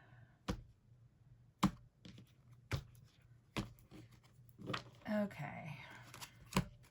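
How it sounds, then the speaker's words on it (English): Tarot deck being cut and handled, with several sharp card slaps and snaps spaced about a second apart, close and crisp, alongside a few soft spoken words and brief rustling. "Let's cut this deck."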